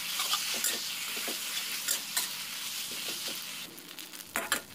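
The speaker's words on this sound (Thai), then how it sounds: "ก่อนอื่นนะคะเราก็จะนำเส้นมาผัดซะก่อน แล้วก็ใส่ซีอิ๊วหวานลงไปค่ะ" Rice noodles being stir-fried with sweet soy sauce in a pan for a seafood rad na give a steady close sizzle, broken by repeated scraping stirs of the spatula.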